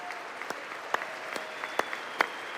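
Sparse, scattered claps ring out at the State of the Union, a handful of sharp individual hand claps spaced apart, fairly quiet against a low room hush.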